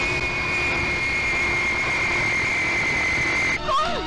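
A jet airplane takes off in a Turkish film scene, its engine holding a loud, steady whine with a constant rumble beneath, then breaking off abruptly near the end.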